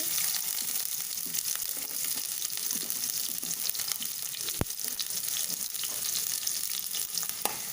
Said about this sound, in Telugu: ఇప్పుడు కొంచెం ఆయిల్ వేస్తున్నాను ఉల్లిపాయ ముక్కలు వేసుకోవాలి